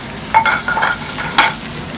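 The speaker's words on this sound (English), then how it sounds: "we're going to saute some spinach and olive oil and garlic" Spinach sautéing in olive oil with garlic in a pan, a steady soft sizzle with a few stirring scrapes and clatters rising over it.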